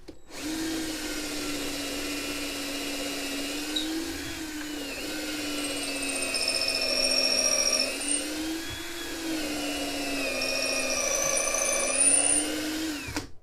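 A steady, whining power drill bores deep into wooden stair parts during a handrail installation, its pitch rising and falling slightly, loud and close with no talking.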